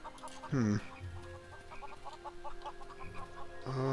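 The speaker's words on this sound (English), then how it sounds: "There's another chicken there." Chicken clucking in the Neverwinter Nights 2 video game, a loud burst of clucks followed by softer repeated clucks over a background game soundscape.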